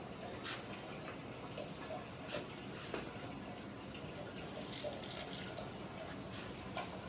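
Water poured out by hand, apparently onto trees and plants during an Akti festival celebration, gives a steady close splashing trickle running throughout, with occasional brief knocks on top.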